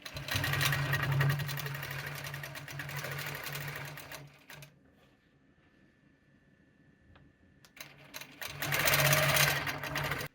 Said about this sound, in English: keep the edge of my ruler in line with the edge of the quilt and sew up the side.